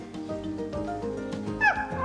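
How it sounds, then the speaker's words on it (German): A dog barks and yips outside in a German household scene, several short excited yelps with whimpering tones, fairly loud over a faint background. "Das ist ein Hund, Herr Dr. Wolf."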